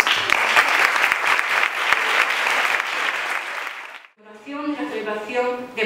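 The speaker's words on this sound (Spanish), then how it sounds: "agradeceros vuestra asistencia y nada, un aplauso para todos." An audience applauds loudly and steadily at a Gitano Day celebration for about four seconds. The clapping then stops abruptly and a voice begins speaking.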